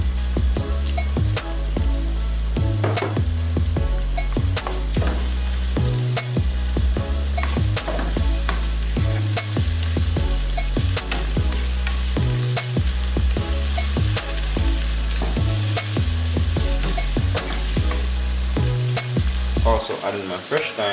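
Sweet pepper sizzles and fries in a pan for callaloo and saltfish, with frequent spoon stirs and scrapes over a constant hot crackle, close and steady throughout.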